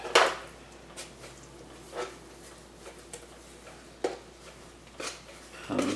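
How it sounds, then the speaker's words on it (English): A small trowel stirs Quikrete cement into a paste, making irregular scraping clicks and taps against the container, each one short and fairly close. "all I'm doing is just stirring it up to create kind of a pasty mix that you can then spread inside"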